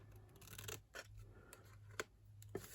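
Several short, crisp snips of scissors cutting silver foil, spaced about half a second apart, close by and fairly quiet, over a steady low hum.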